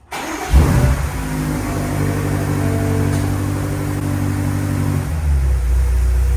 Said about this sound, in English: the engine's on, but don't worry, we're gonna start it again in a second